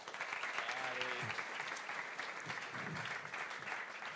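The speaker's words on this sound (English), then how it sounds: "And a big applause for our first speaker, Riccardo Gallotti from FBK." Audience applause for a speaker at an evening tech talk: dense, even clapping from a roomful of people runs throughout, with a brief voice partly audible beneath it.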